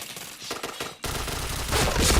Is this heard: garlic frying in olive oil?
no